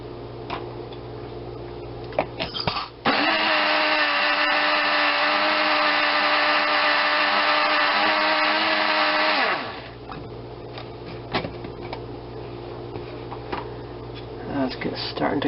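An electric blender whirs through hollandaise sauce, a loud, steady motor drone lasting about seven seconds. Before and after it, a person talks amid light kitchen clatter.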